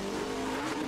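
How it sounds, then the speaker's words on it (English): A NASCAR Nationwide race car spins around at Watkins Glen, its tires squealing in a loud, steady howl over engine noise for just under a second. "Got a car spun around here, Stephen Moss."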